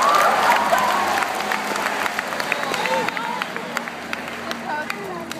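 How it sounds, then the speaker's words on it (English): A church-style congregation claps hands under excited preaching and crowd noise, the clapping fairly close and irregular, mixed with murmuring voices and occasional shouts throughout. "All the brothers, clap your hands."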